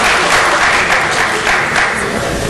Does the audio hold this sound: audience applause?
yes